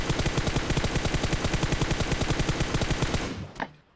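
Rapid sustained automatic gunfire in PUBG Mobile, a loud fast even burst of shots lasting several seconds before cutting off with a final crack.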